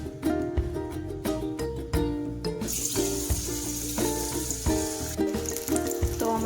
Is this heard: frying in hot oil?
yes